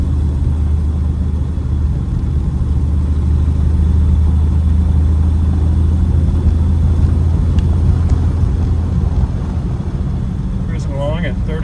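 A 1937 Plymouth Deluxe touring sedan cruising at around 30 to 35 mph, its engine a steady, loud, low drone with road rumble throughout, continuous from start to finish without pauses.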